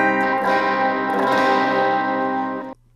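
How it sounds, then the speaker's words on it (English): Electric guitar with spacey reverb, slow tapering delay echoes and light overdrive rings out as a sustained, dirty chord wash for nearly three seconds before cutting off abruptly, leaving a faint hum. "Pretty spacey reverb. I have some delay. It's kind of like a slow tapering echo."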